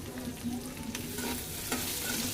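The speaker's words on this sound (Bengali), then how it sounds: "তেলটা গরম হয়ে গেছে আলুগুলা দিয়ে দিই বিসমিল্লা পেঁয়াজ দিয়ে দিচ্ছি কাঁচামরিচ দিয়ে দিলাম" Potatoes, onion and green chili dropped into hot oil for a vegetable fry, giving a continuous bright sizzle with faint stirring, close and steady with no talking.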